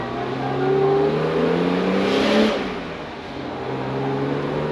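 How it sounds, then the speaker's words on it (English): The engine of a Mercedes-Benz 250SL revs up through the gears while cruising on hill roads in California. The pitch climbs, drops at a shift, then rises again as a steady, moderately close engine drone. "It goes through the gears exactly the way one would expect, exactly the way Mercedes intended."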